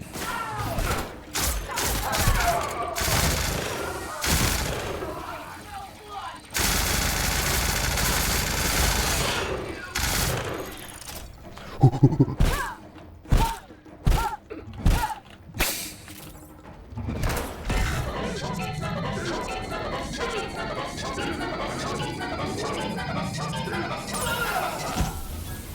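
Automated turret gunfire in The Outer Worlds, rapid bursts of sharp, loud shots, then a run of separate heavy single cracks, with game noise and some talking mixed in.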